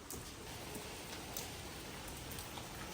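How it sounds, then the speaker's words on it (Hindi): Heavy rain pours down outside a new home, a steady, dense hiss of falling drops that fills the whole stretch with no pauses. "वाह इतनी तेज बारिश हो रही है"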